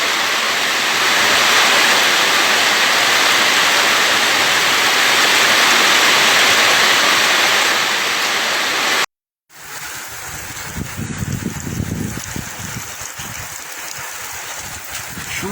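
Rainwater pours over a reservoir spillway after heavy rain at a rural site in Serrinha, Rio Grande do Norte, as a loud, constant rushing roar, followed after a brief cut by a rougher, gustier water wash.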